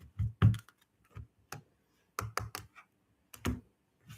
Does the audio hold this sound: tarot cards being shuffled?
yes